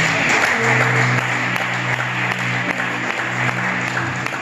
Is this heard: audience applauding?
yes